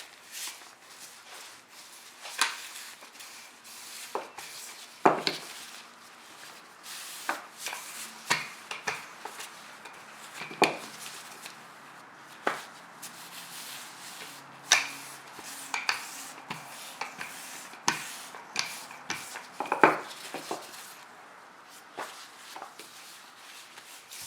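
Whole wheat chapati dough being rolled in a kitchen, a series of soft irregular knocks and thumps of the rolling pin on the board, some sharper taps, spread over a quiet background with no talk.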